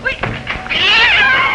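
A cat lets out a loud, drawn-out meow close by, following a few brief thumps and some background voices.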